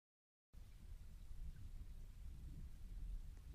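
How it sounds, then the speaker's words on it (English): Rain and thunder in the Roblox game Adopt Me start suddenly after a brief silence, a steady low rumble with rain hiss that holds on without talk. "Whoa, why is it rainy?"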